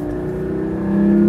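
Porsche engine revving hard above about 3,500 RPM, a loud, close, sustained tone that climbs slightly in pitch and swells toward the end, with no voices.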